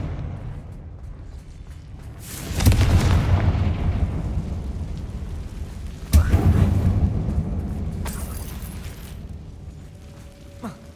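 Two booming blasts from the Confringo fire spell in Hogwarts Legacy go off inside a closed mine about three seconds apart, each followed by a long rumbling decay.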